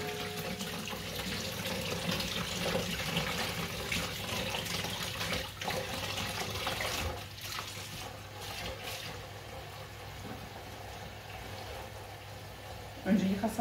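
Tap water running into a sink while fresh organic strawberries are rinsed, a steady rushing splash that thins out partway through, with someone speaking over it.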